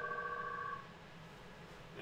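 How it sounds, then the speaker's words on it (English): A Cisco skinny IP desk phone rings with a steady electronic trill that sounds for under a second, then falls away, leaving quiet room hum. "hopefully you can hear the skinny phone ringing now."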